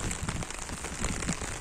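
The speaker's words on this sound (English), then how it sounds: "it is raining since the last 4 p.m. in the afternoon" Steady rain falls on a muddy village road, a continuous close hiss of drops spattering the wet surface with no voices.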